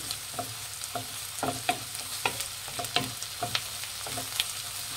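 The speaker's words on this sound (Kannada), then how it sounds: "ಒಂದು ಅರ್ಧ ಟೇಬಲ್ ಸ್ಪೂನ್ ಅಷ್ಟು ಶುಂಠಿ ಬೆಳ್ಳುಳ್ಳಿ ಪೇಸ್ಟ್ ಹಾಕ್ತಾ ಇದ್ದೀನಿ. ಇದು ಹಸಿ ವಾಸನೆ ಹೋಗೋವರೆಗೂ ಫ್ರೈ ಮಾಡಿ" About half a tablespoon of ginger garlic paste fries in hot oil for an egg puff filling. A soft continuous sizzle runs under frequent quick spatula scrapes and taps, close by.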